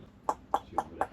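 A child imitates a trotting horse with four evenly spaced tongue clicks, crisp and close, like hooves clip-clopping.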